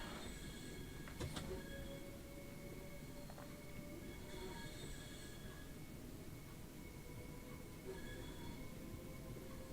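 Train Sim World 3 Southeastern high-speed train running along HS1 near the Medway towns, a steady rumbling rail drone with faint wheel squeals and brief metallic clicks throughout.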